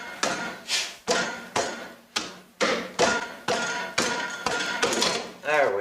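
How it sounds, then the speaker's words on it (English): Hammer blows on a part from a Farmall Cub tractor, about eight sharp metallic strikes at a steady, unhurried rhythm, loud and close, each followed by a short ringing decay. "I believe we'll have to get a hammer"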